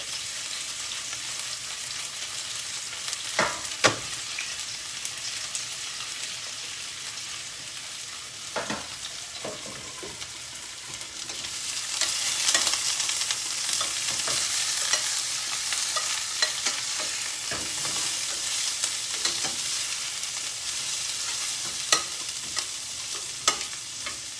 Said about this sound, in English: So keep stirring in every 2 minutes so that these don't get burned